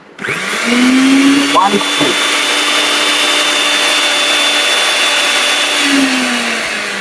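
A powerful stainless steel grinder machine with a locking lid spins up to speed and runs with a loud, steady high-pitched whine and a rushing roar, holding constant for several seconds after a brief start.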